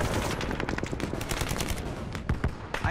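Heavy, continuous Vietnam War gunfire rattles nonstop, rapid overlapping shots forming a loud, chaotic barrage close by.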